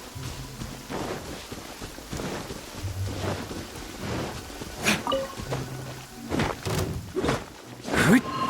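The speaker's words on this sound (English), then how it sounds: "Rain" Rain falling steadily in the Genshin Impact video game, with dense hiss, soft rumbles and sharp crackling bursts of thunder toward the end, no voices.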